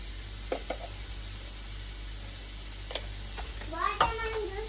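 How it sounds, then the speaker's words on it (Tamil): Food being stirred in a pan with salt and spice powder: soft, faint scraping and light sizzling, with a brief voice near the end. "உப்பு போட்டு நல்லா மிக்ஸ் பண்ணுவோம்"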